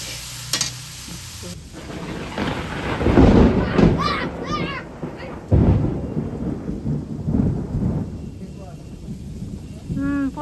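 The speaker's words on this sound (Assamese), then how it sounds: "পুৰা ঢেৰেকণি মাৰি আছে বৰষুণ" Heavy rain pours outside a kitchen with loud rumbling thunder, mixed with the sizzle of onions frying in a wok while a voice talks over it.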